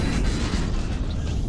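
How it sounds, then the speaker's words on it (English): Explosions in the video game Overload make a dense, continuous rumble of deep booms that rolls on steadily without a break. "The explosions, even in this, are gorgeous."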